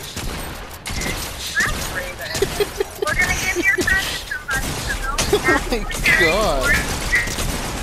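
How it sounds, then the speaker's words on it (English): Pump shotgun blasts in the Fortnite video game fire in a rapid barrage of sharp cracks and impacts, mixed with game effects while a player exclaims over the action. "It only took 17 pump shots."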